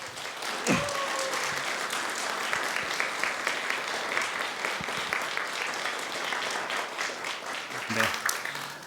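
Warm, sustained clapping from a church congregation welcoming a missionary speaker, steady throughout with a few voices calling out over it.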